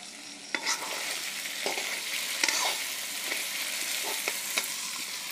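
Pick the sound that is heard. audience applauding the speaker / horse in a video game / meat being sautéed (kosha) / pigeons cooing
meat being sautéed (kosha)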